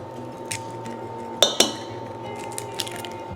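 Crab cake mixture with eggs, Old Bay, pepper and Worcestershire being mixed in a bowl: soft squishing with a couple of sharp utensil clinks against the bowl, close and fairly quiet over a low background hum.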